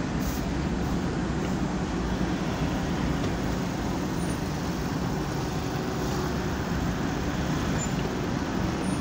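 Road traffic on EDSA in Bagong Barrio, Caloocan, with bus lanes, forms a continuous low rumble of engines and passing vehicles, steady and moderately distant, with no voices.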